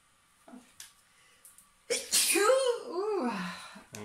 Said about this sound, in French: Un éternuement, c'est de l'action.